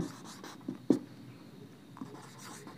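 Writing on a board during a Bengali-language logic lesson, faint scratchy chalk or marker strokes with a few sharp taps in a quiet room, soft and close.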